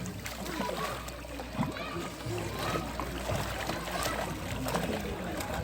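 A young girl named Shaimaa splashes and dives in an outdoor swimming pool in Benguerir. Steady splashing and water churning carry through the clip, with voices calling out over the noise.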